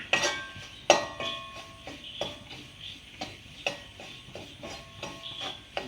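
A spoon stirs chili powder in hot oil in a pan while making nutmeg pickle, giving soft, rhythmic scrapes and light metallic clinks at a steady pace, close up.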